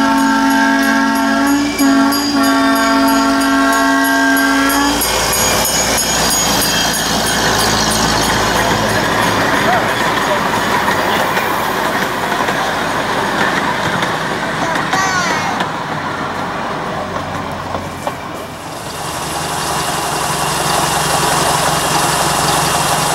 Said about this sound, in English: The train is seen returning past the station after having looped around in a circle in the distance.